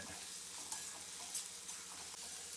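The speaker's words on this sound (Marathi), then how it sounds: "आता हे आपण चांगल्यापणे भाजून घेऊ" Tomato and corn fry in a pan for cheese corn Maggi, giving a steady, continuous sizzle with a busy hiss and light stirring scrapes, no voices over it.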